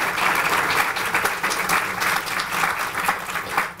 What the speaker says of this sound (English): If I could have a round of applause for our board.